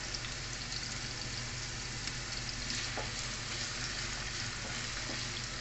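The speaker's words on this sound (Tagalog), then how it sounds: "Fried natin yung ating syempre yung ating patatas" Potatoes frying in a pan for chicken afritada give a steady, dense sizzle that holds at an even level throughout, with no talking.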